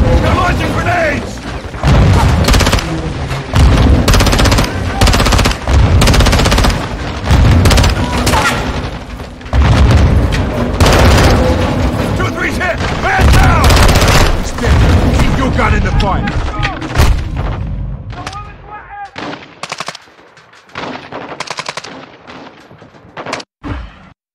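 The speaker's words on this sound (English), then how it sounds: "Incoming! Take cover! They're launching grenades!" Grenade explosions and rapid gunfire in Modern Warfare 2, loud booms and bursts of shots packed densely together, with voices shouting over the combat before the barrage thins out near the end.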